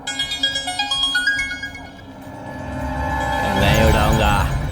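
A mobile phone ringtone plays a rhythmic run of bright, stepping melodic notes that repeats, then fades into a broader wash of background sound.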